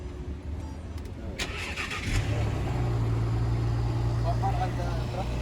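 A police-version Ford Explorer starts up at a Dubai supercar scrapyard: a starter churns briefly, then the engine catches and settles into a steady, close idle hum while people talk nearby.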